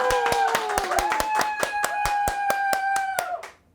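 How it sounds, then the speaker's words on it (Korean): An audience at a Daejeon climate justice street broadcast claps steadily in unison, a brisk rhythmic beat of about a dozen claps. Sustained tones ring over the claps, and everything trails off at the end. "오늘 환호 좋습니다."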